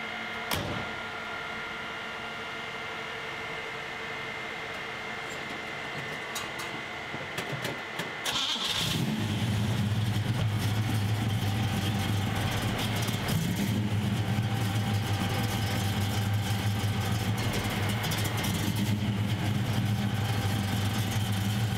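A Pontiac Firebird's engine cranks and catches at about eight seconds, then settles into a steady, rumbling idle close by that continues to the end, following a quieter stretch of faint mechanical noise.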